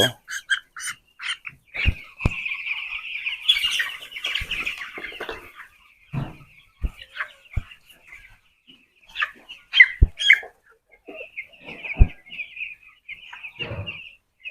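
Fourteen-day-old broiler chickens cluck and squawk in short scattered bursts during weighing on a poultry farm, some near and some farther off, with occasional soft knocks and handling thumps between calls.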